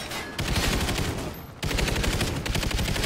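Rapid automatic gunfire from a Call of Duty: Ghosts match, loud and continuous bursts with a brief gap near the middle, then sustained firing resumes, no talking over it.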